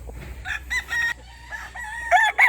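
A premium gamefowl broodcock rooster crows at close range, several loud harmonic calls with short pauses between them and no talking.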